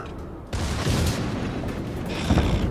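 Warship guns firing in the World of Warships naval game: a sudden heavy boom followed by a rolling, rumbling roar that swells again near the end.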